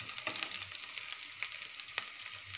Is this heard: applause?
no